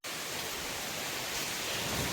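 Strong storm wind and heavy rain lash the town of Jaffna during a cyclone, a loud, steady broadband roar that holds without a break throughout, with no voices.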